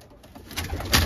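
Pigeons and their chicks coo in a loft, a soft low cooing that swells quickly and grows louder toward the end of the brief moment, heard close by.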